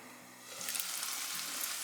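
Mutton roast dry-roasts in a pan, starting as a quiet hum before a bright, close sizzle swells up and holds steady.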